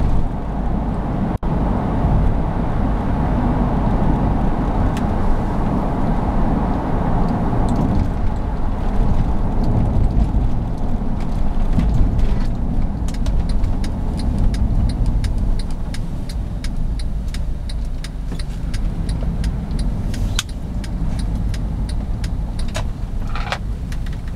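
Cabin of a 2008 Honda CR-V EX-L driving over a rough road, with a continuous low road rumble and scattered knocks and rattles from the bumpy surface throughout, no talking.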